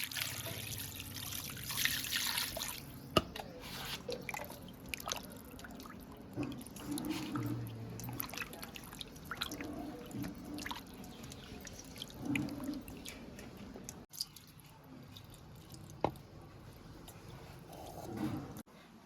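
Water trickles and splashes in a sink while a cut Katla fish head is rinsed by hand, a faint, uneven stream with soft drips and clatters.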